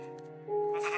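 A sheep in the video game Minecraft lets out a single wavering, nasal bleat, close and clear, after a few soft clicks.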